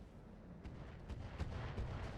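Heavy explosions in a video game roll out as low, booming bursts over a continuous rumbling battle din, with several dull thuds rising and falling across the short stretch.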